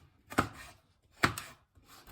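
Knife finely chopping hot chili pepper on a cutting board, three crisp close thuds spaced about a second apart, with no talk.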